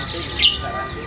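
A caged strawberry finch chirps at a busy bird market in Jakarta, a single brief high chirp over a steady background of market noise and other birds.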